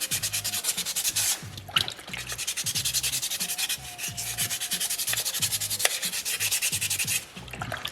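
Sandpaper rubs over a small soapstone polar bear carving in quick, steady back-and-forth strokes, close and continuous, with brief pauses between runs and no talk.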